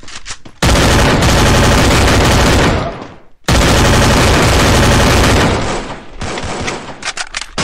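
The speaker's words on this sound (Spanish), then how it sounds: "Oigo disparos." Dense, loud automatic gunfire in the video game Free Fire, two long continuous bursts broken by a brief gap, then scattered shots trailing off, with almost no talk.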